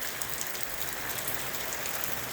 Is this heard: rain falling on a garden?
yes